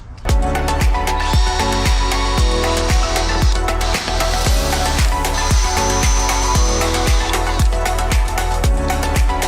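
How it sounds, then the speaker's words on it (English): A power drill on hammer setting bores into a metal VR5 engine stand bracket, a loud continuous grinding whine with rapid regular hammering pulses, close up and without speech. "Drill's starting to overheat."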